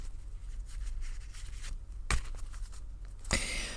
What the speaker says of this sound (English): I shuffle until Spirit asks me to stop